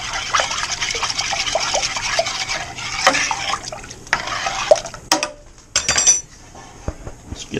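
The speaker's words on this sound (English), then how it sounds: "Just a little warm water there so the sugars will dissolve themselves a little bit" Warm water trickles and pours over sugar in a home brewing setup, a light splashing stream mixed with clinking of kitchen utensils and containers, with a few sharp knocks near the end.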